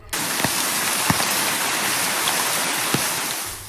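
Steady, dense rush of heavy monsoon rain in hilly northern Kerala, falling continuously, with a few faint knocks and taps breaking through the constant wash.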